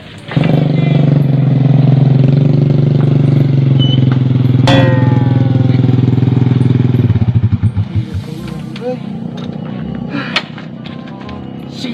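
A market-type motorcycle engine idles loudly and steadily, then sputters into uneven chugging pulses as it stalls, with a few clunks afterward.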